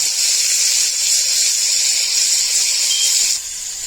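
Jackfruit oxtails browning in a hot pan: a loud, steady, close hiss of sizzling that holds evenly, then drops slightly near the end.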